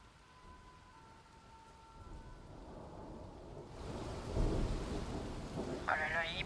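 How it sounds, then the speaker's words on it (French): Heavy outdoor rain hissing steadily, swelling louder partway through, with a low rumble of thunder; the whole recording is faint and distant-sounding. "J'essaie de rentrer chez moi, il pleut trop fort"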